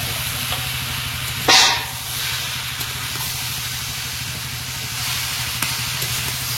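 Fried soybean chunks go into a pan of tomato-based curry base, giving a short, loud sizzling burst that fades into a steady background hiss.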